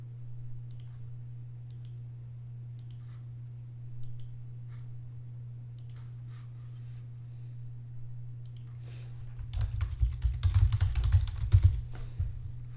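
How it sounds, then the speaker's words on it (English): Computer keyboard typing while entering route schedules in RouteStar software: sparse single key clicks at first, then a quick flurry of keystrokes near the end, all over a steady low electrical hum. "and then start typing"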